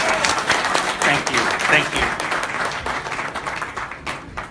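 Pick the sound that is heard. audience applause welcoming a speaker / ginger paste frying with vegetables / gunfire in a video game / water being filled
audience applause welcoming a speaker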